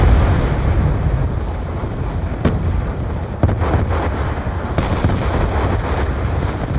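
Rocket fire in Black Ops 2 comes as loud, continuous, dense gunfire and explosive bursts, with scattered sharp blasts over a rumbling roar.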